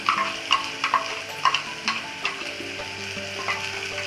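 Tomatoes go into a pan of spiced chana masala and are stirred as they fry, a soft steady sizzle broken by a regular series of light spoon scrapes and taps.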